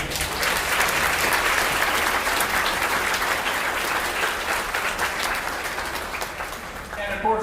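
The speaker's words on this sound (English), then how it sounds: "We can give him a round of applause." Sustained audience applause at a school band spring concert, dense and steady, fading slightly near the end as a voice returns.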